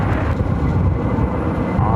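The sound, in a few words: United Airbus A321neo rolling down runway 25 right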